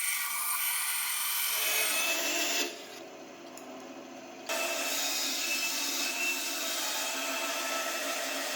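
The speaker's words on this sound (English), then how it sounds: "Dense exotic hardwood can easily bind up or snap a thin bandsaw blade if you try to force it through the curves too fast." A bandsaw with a thin blade cuts curves through dense exotic hardwood, a steady buzzing whine that briefly drops off midway and then resumes at full strength, with no talk.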